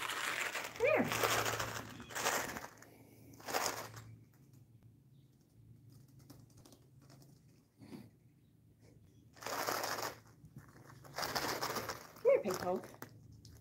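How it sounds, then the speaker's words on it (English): A bird screeches loudly in short bursts outdoors, mixed with cooing and rustling, while a person speaks at intervals. "Birds are so loud around here."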